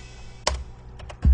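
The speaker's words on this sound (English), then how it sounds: "What you heard there was me pressing the keyboard and it triggered our sounds." A couple of sharp electronic drum samples, triggered by pressing computer keyboard keys, fire in quick succession, a crisp snap followed by a deep thump at the end.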